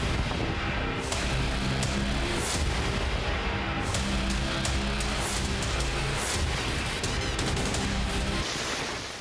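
Missile strikes and explosions hitting Sevastopol in Crimea: a dense, continuous barrage of booms and blasts with crackling, gunfire-like bursts, loud and unbroken for several seconds with no speech.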